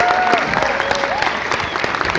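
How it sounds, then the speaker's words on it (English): A cinema audience at a post-screening Q&A claps loudly and cheers for a film's co-director and narrator, with dense applause and scattered voices calling out throughout. "So can we just give her a huge cheer"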